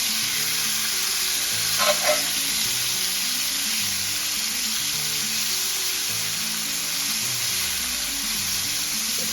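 Ribeye steaks sear in a hot pan with a loud, constant sizzle and a brief clatter as they are flipped over, while faint tonal background sounds run underneath.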